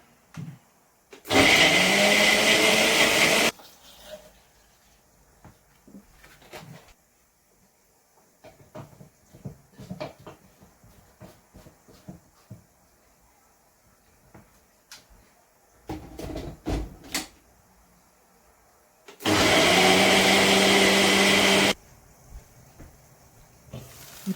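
A kitchen mixer whirs loudly in two bursts of a few seconds each, blending a dry fruit milkshake of almonds and milk, with quiet clinks and handling sounds between the runs.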